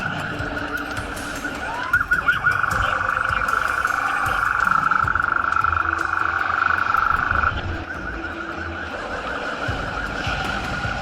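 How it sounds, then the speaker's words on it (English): Police sirens wail in a steady, sustained tone during a high-speed motorcycle chase and echo between concrete walls, with tyre and engine noise around them and faint voices underneath. "The sirens that echo between concrete walls."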